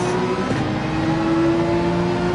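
A Porsche 911 in Gran Turismo 7 holds a high, steady engine howl at sustained revs, a clear tonal whine that stays loud and close throughout with no voices.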